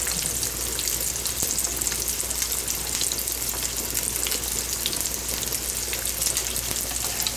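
Italian sausage and ground beef frying in a pan, a dense continuous sizzle and crackle of hot grease that stays even and close throughout, with no voices.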